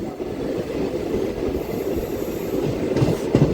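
A DEMU train rolls along the rails leaving Dhone junction at slow speed, a steady close rumble with rhythmic wheel clatter and a few sharper knocks near the end, no voices.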